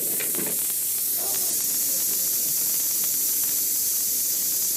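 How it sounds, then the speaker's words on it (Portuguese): A pressure cooker full of boiling water vents steam in a loud, steady hiss that runs unbroken for several seconds close up, with a few faint knocks beneath it and no talk. "a gente tem uma panela de pressão com água fervente"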